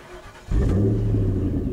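A supercar engine in the Roblox video game cranks over and catches, settling into a loud, steady idle rumble with no talking.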